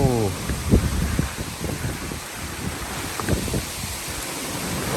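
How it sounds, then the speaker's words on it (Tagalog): Strong wind gusts across a microphone outdoors in Pagudpud, a broad continuous rushing roar with buffeting bursts, while a person talks over it. "sumasayaw yung hangin mga ka-that's good."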